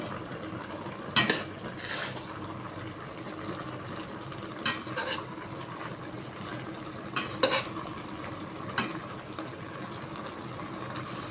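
Squid adobo with cabbage being stirred in a frying pan, a steady low simmer broken by several sharp utensil scrapes and clinks against the pan, close and alone without talk.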